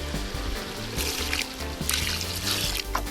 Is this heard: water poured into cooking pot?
yes